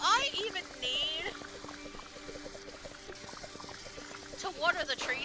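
Trees are watered in the game Fresh Start Cleaning Simulator: a soft, steady pouring trickle of water runs under quiet background music and scattered game sounds.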